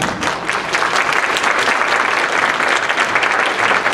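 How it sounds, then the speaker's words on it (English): An audience at a December orchestra concert gives the soloists a dense, loud round of applause, steady and unbroken for about four seconds. "we'll give a big round of applause to everybody"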